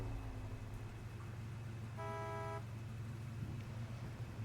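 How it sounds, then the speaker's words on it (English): In the SnowRunner video game, a truck gives one short, flat horn honk midway, sounding over a steady low engine rumble and a constant hiss. "Down on the left joystick honks the horn."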